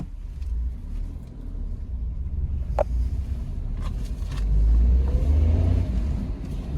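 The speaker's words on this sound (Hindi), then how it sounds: "अब एक बार में देखते हैं ये गाड़ी मुड़ पाती है कि नहीं, मतलब एक बार बैक करके।" A 2024 Maruti Alto K10 small car's engine rumbles low as it turns and reverses on a hill road, a steady near idle hum swelling briefly with throttle, with no talk.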